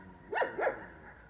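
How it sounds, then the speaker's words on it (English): Two sharp dog barks close by, about a quarter second apart, each loud and alone against a quiet outdoor background at a disused builders' yard. "you can hear the dogs."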